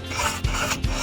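Knife blade drawn across a sharpener in two or three close, loud rasping strokes, each a gritty scrape with a short pause between.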